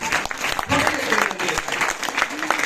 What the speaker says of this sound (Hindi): ताली तो बजा दीजिए एक बार।